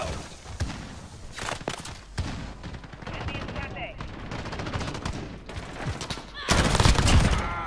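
Rapid bursts of automatic gunfire and single shots crack through a Call of Duty Modern Warfare team deathmatch, loud and close with brief pauses between volleys, ending in a dense final burst; a player talks over the shooting.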